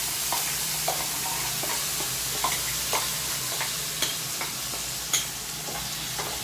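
Tomato neer chutney with curry leaves sizzles steadily in a pan while a spoon stirs it, giving a continuous close hiss broken by regular light scraping clicks.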